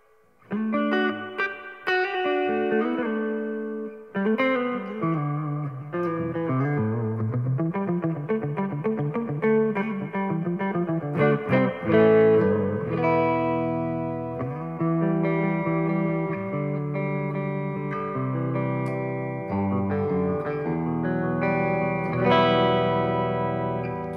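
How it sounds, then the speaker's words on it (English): Electric guitar played through a BOSS Dual Cube LX amplifier with its spring reverb turned all the way up, ringing chords and melodic runs trailing into a wet, splashy echo, played continuously without talk. "if I go again all the way up, you can go in the range of the spring reverb"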